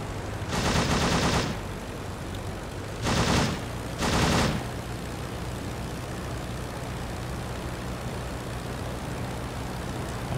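Machine gun fire from an enemy rear gunner in the flight-simulator game Rise of Flight, three bursts of rapid rattling shots over a steady droning aircraft engine, the first burst longest, the other two short and close together.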